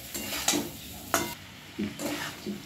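Boiled, lightly fried peas tipped into a sizzling vegetable biryani mixture and stirred: a few loud scraping sweeps of the spoon through the pan over a steady frying hiss.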